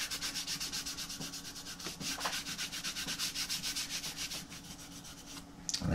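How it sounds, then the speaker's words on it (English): Rapid back-and-forth scrubbing of a used graphing calculator with a microfiber cloth dampened with rubbing alcohol, a steady rhythmic rubbing stroke repeating close up and fairly loud, with no voices. "I just take a microfiber cloth, put a little rubbing alcohol on it, and basically just start scrubbing away"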